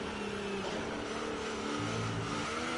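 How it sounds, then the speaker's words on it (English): Formula 1 cars in a racing video game drone and rev steadily on a wet track as they roll up to the grid, a continuous layered engine tone with pitch shifts and no voices. "as we come around the final corner, we're getting the cars coming up to the grid"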